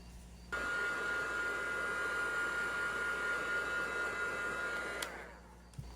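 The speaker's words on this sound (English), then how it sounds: "just hit this with the heat gun a little bit and let this dry" A heat gun blows steadily on a handmade craft piece, switching on with a loud whooshing hiss and a high whine, running evenly for about four seconds, then cutting off with a click, close and without talk.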